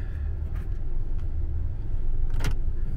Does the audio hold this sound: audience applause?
no